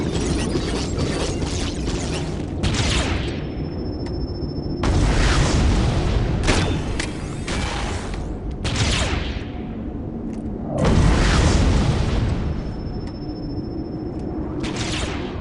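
Explosions from enemy fire roll through a battle in the strategy game Dawn of War: Dark Crusade, loud and repeated in heavy booming bursts, some longer blasts, with mechanical clanks and ratcheting throughout and no speech.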